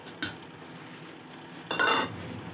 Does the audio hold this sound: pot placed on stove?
yes